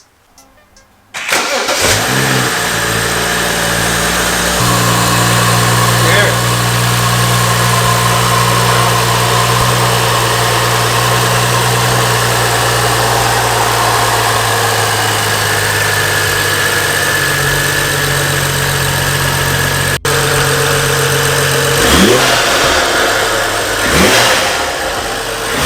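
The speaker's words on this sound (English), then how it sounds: "I'm gonna start the car." A car fitted with a Burger Motorsports BMS intake cranks and fires up, settling into a loud, steady idle close by, then gives a couple of quick revs near the end.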